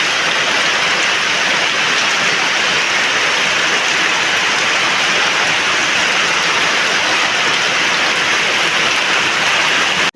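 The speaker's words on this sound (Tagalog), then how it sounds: "Araw-araw na po'y ulan dito." Steady, loud, dense rain pours continuously on surfaces nearby, a constant hiss with no breaks and no voices.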